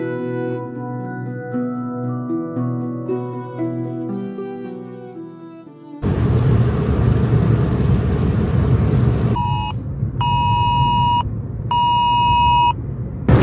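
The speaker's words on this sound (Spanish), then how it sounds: "Nos ha llegado una alerta a los 3 móviles que teníamos con un zumbido intensísimo" Several mobile phones sound an emergency flood alert together: loud, harsh buzzing tones pulse on and off in repeated bursts over a low background rumble, after a stretch of music.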